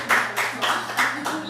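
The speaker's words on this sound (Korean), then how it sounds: "박수로 환영하겠습니다" In a church service, the congregation welcomes a newlywed couple with a short burst of clapping, four or five rhythmic, moderately loud pulses of many hands in unison, with a voice faintly underneath.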